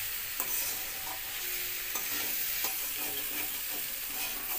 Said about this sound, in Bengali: এবার আস্তে আস্তে সমস্ত সবজিগুলোকে মশলার সাথে ভালো করে কষিয়ে নিতে হবে একটুখানি